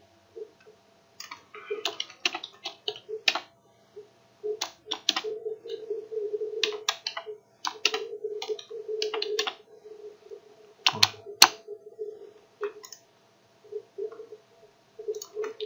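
Values typed on a computer keyboard, heard as bursts of close, crisp key clicks with short pauses between groups, over a faint steady hum and no talking.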